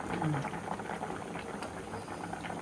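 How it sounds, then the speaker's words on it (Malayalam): Fish curry thickens as it simmers in a pot, giving a steady, soft bubbling that runs throughout at low level with no talk. "ഇച്ചിരി കുറുകി വരുന്നുണ്ട്"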